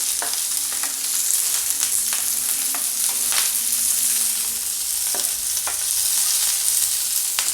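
Soybean manchurian fried with capsicum, a loud steady sizzle with occasional sharp spatula scrapes and clicks against the pan, close and continuous.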